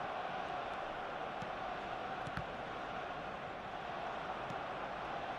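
Steady stadium crowd roar from an eFootball 2025 football match, with a dense, continuous wash of spectator noise held at an even level for the whole stretch and no clear peaks or pauses.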